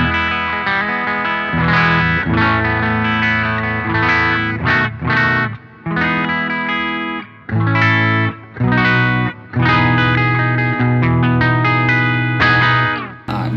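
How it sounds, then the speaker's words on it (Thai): Clean electric guitar tone with no fuzz engaged, played as a series of strummed chords and single-note phrases with short pauses between, bright and ringing, close and loud with no voices. "สียงคลีนกีตาร์เป็นอย่างงี้นะครับ"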